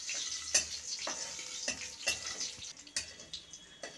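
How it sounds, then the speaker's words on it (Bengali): Garlic and green chillies frying lightly in oil, a soft steady sizzle broken by regular scraping stirs against the pan, fairly quiet and close. "এগুলো হালকা করে আমি ভেজে নেব আগে"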